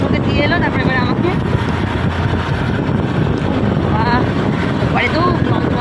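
A passenger vessel crosses a river, its engine droning steadily with gusts of wind buffeting the microphone throughout; bursts of nearby voices and chatter rise above the constant rumble.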